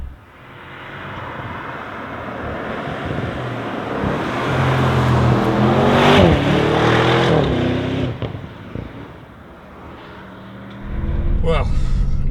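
A 2025 Audi RS Q8 Performance SUV with a 640 hp V8 accelerates hard, its loud engine note climbing through rising revs and falling back, then surging again near the end, with a voice heard over part of the run.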